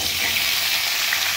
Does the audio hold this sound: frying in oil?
yes